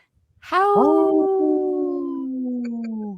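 A person imitates a wolf howl with one long, loud, steady vocal tone that rises and then slowly falls, heard up close and on its own, with no other voices.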